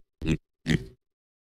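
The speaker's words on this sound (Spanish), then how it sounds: "¡Es un cerdo!" A cartoon pig gives two short, separate oinking grunts with a brief pause between them, set against silence.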